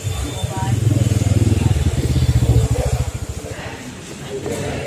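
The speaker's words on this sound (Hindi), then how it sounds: "गाइस यहाँ पे अपना बाइक जो था टेस्ट ड्राइव हो रहा है" A serviced Bajaj Pulsar N160 motorcycle on a test ride, its engine a loud, close, steady thrum that pulses and fades slightly toward the end, with someone talking over it.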